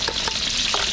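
Garlic and onion sautéing in oil for pancit at a catering cook, a loud bright continuous sizzle with a few quick stirring scrapes, close up and without voices.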